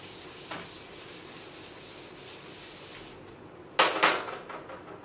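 Erasing a classroom board during a heart anatomy lesson: steady, close scraping rubs across the surface for several seconds, ending in two louder, harsher swipes.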